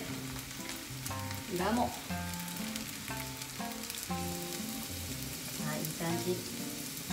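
Bitter gourd (goya) karaage deep-frying in hot oil, a steady close crackling sizzle throughout, with a person speaking briefly over it and a few clinks of utensils.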